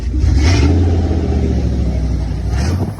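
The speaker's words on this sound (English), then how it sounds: "Press the gas for him one time. Just press the gas." An older car's engine revs up loudly when the gas pedal is pressed, a deep close rumble that swells, holds and eases off over a few seconds.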